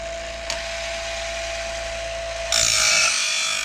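A sawmill band blade tooth, for a Woodmizer LT35 HD portable sawmill, is ground with a steady close whine that turns harsher and brighter near the end as the grinder bites the tooth.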